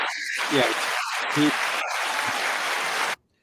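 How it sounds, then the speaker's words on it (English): A crowd claps in a dense, continuous wash of applause heard at a moderate distance, with faint voices mixed in, cutting off abruptly. "You didn't know you were getting applause, did you, Peter?"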